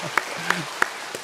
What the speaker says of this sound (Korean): 이 시간 한번 박수로 한번 축복하면 어떨까요?